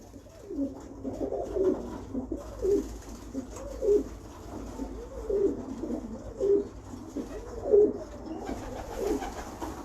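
Pigeons coo in a steady series of low, rolling calls, each swelling and fading about once a second, close and fairly clear over faint background hum, with no talk.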